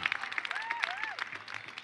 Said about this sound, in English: Let's hear some cheering.